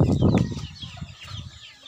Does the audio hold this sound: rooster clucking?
yes